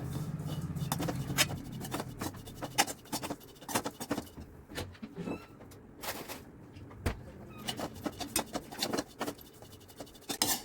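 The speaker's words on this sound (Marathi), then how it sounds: "आपले काजू आणि बदामचं काप केलेले ते पण व्यवस्थित भाजून घ्यायचेत आपल्याला" Sliced cashews and almonds roasting in a pan for rice kheer, stirred with a spatula: scattered scraping and clattering strokes with light sizzling underneath, close and fairly quiet, with no voices.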